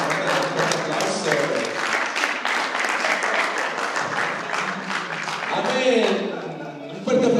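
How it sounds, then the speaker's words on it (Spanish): Audience applause at a church Mother's Day celebration, sustained clapping from a crowd that swells and carries on, with a few voices and cheers mixed in as it fades. "Un aplauso."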